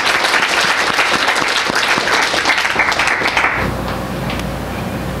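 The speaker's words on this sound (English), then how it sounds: "Can we give one more big round of applause for the Penn Prison Program?" A crowd at a live event gives a big round of applause for a prison education program, loud sustained clapping that stops abruptly near the end, leaving quiet room tone.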